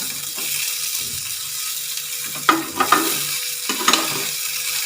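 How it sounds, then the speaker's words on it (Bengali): Mango pieces for an oil-based pickle frying in hot oil, a steady close sizzle with intermittent louder stirring scrapes and spatters; no talking. "আরেকটুখানি ভাজি"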